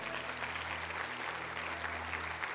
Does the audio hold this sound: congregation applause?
yes